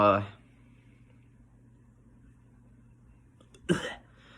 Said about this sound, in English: I started coughing there